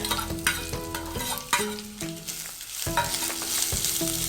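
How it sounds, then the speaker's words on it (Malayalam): A large chopped onion sautés in a pan, with a spatula stirring and scraping in repeated strokes over a soft, continuous sizzle, close and moderately loud with no talking. "ഇതൊന്ന് ചെറിയൊരു ബ്രൗൺ നിറം വരുന്നത് വരെ നമുക്ക് ഒന്ന് വഴറ്റിയെടുക്കണം."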